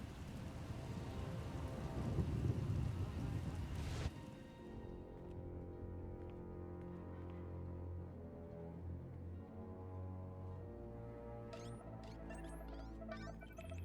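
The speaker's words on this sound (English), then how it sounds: "Looks like the storm's not letting up anytime soon." Rain pours with low thunder rumbling in Star Wars: The Old Republic, a heavy storm wash that eases after a few seconds into a calmer steady backdrop with a musical score.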